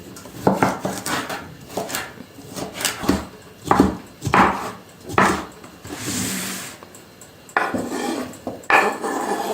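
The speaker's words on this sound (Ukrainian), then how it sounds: "Використовую пів огірка, нарізаю також маленькими кубиками" A kitchen knife dices cucumber into small cubes on a board, with bursts of quick chopping taps separated by pauses and a brief clatter of dishes, fairly close and without talk.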